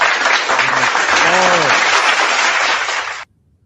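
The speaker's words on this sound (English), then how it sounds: "Round of applause, man." Loud applause washes over a podcast intro while a voice speaks briefly over it, the clapping steady for about three seconds before cutting off abruptly into silence.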